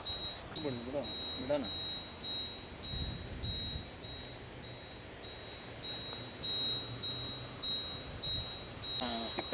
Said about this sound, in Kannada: ಸ್ಕ್ಯಾನ್ ಕಂಪ್ಲೀಟ್ ಆಗೈತೆ ಬೀಪ್ ಸಿಗ್ನಲ್ ಬರ್ತೈತೆ